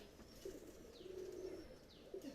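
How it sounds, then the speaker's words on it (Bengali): A red Benaras pigeon gives a few soft, low coos, faint and close, with short gaps between them. "এই কবুতরটা লাল বেনারস কবুতার"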